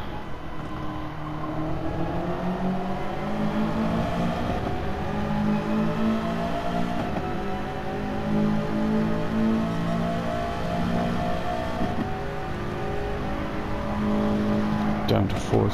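Race car engine in Gran Turismo Sport, revving and downshifting as the car brakes and accelerates, with rising and falling pitch sweeps under steady engine drone; a person talks over the engine at times.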